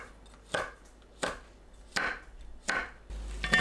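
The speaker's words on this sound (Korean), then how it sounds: "청양고추, 홍고추를 1cm 길이로 썰어줍니다." A knife chops green and red chili peppers on a board in five sharp, evenly spaced strikes, close and clear over a quiet background, with no voices.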